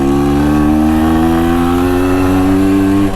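MZ TS125 two-stroke motorcycle on new tyres, revving hard and accelerating through a corner, its buzzing engine loud and close with a rising pitch held steady for a few seconds.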